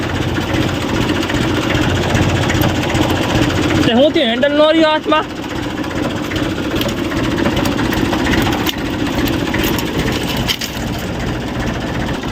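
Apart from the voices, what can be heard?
tractor engine idling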